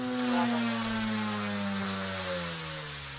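An OMP M1 RC helicopter's rotor spins under heavy load in a battery test, a loud, buzzing whine whose pitch slides gradually downward as it strains, close and continuous without talk.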